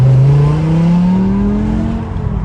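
BMW M6 with a V10 engine revving up, a loud, close, rising engine whine that climbs steadily in pitch, then eases slightly toward the end.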